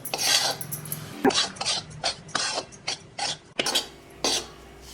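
Wheat flour dry-roasting in a pan over a low gas flame for jaggery sweets, with a spoon scraping and clinking against the metal in short, irregular bursts, close and fairly loud, no voices.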